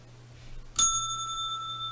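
One clear ring of a bell, a single bright strike with a ringing tone that fades slowly over low steady background hum.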